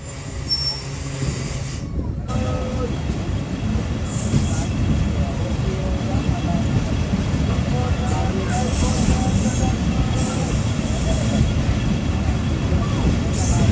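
The Rehman Baba Express begins to roll toward the station after a stop, with a steady loud rumble and repeated wheel squeals over the tracks, and voices talking over it.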